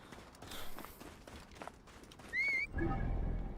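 A horse in the video game Assassin's Creed Origins gives a short high whinny over hoofbeats and game ambience, followed by a louder snort and rumbling.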